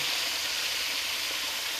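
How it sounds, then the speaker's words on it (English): Steady, loud sizzling hiss of a turkey frying in hot oil, continuous and close, with no talking. "Hear that sizzle."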